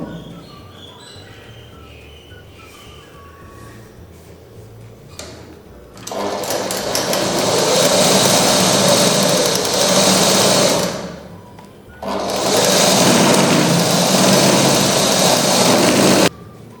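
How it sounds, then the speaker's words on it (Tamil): A sewing machine stitches cloth in two long continuous bursts of rapid whirring, loud and close, separated by a short pause, after a quiet start with faint background noise. "அதே ப்ரெஷர் போட்ட அளவு தையல் போட்டுக்கோங்க"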